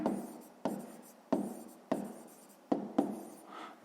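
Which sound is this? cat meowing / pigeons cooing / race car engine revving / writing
writing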